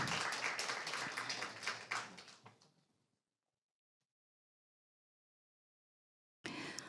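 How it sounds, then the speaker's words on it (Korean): Audience applause at an awards ceremony for a creator video contest at a university-industry cooperation expo, a dense patter of claps for about three seconds that fades into silence, then returns abruptly at the end. "네, 박수로 모시겠습니다"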